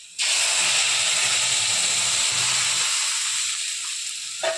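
Masoor dal lentils hit a hot pan of mutton pieces over lowered gas, setting off a loud, steady sizzle and steamy hiss that holds for several seconds, fades slightly, then flares briefly near the end.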